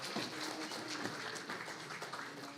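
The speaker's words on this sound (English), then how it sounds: "Applause for all of our panelists" Audience applause for conference panelists at a scientific conference, a steady moderate wash of clapping filling the whole stretch without a break.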